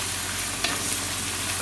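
Meat searing in a Dutch oven gives a steady, loud, close sizzle that never lets up, with a faint scrape of stirring partway through.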